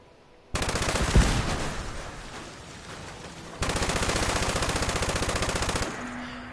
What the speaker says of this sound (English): I also noticed with shooting this light machine gun here